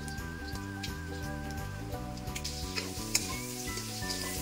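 Chopped ginger sizzles in rendered pork fat in a pan, the first step of a pork adobo with coconut milk. A steady, close frying hiss carries on throughout with a few small pops.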